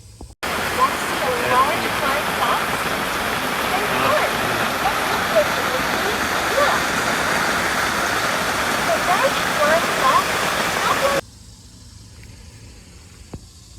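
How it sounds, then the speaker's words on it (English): Steady heavy rain hisses without pause for most of the clip, dense and close, then cuts off abruptly to near silence. "Yesterday it was raining. I'll insert that clip here."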